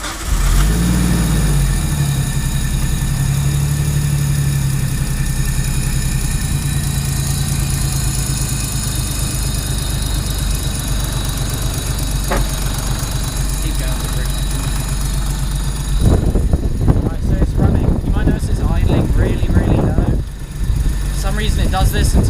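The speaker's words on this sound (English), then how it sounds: "we're going to fire up the Nissan, let it warm up a bit" Nissan 200SX S13 with an RB25DET engine idling in a driveway while warming up, a loud, steady mechanical drone that runs on unchanged for most of the time before a rougher, uneven stretch near the end.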